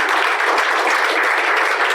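An audience at a book and film event applauds loudly and steadily, a dense continuous wash of clapping heard close up with no pauses.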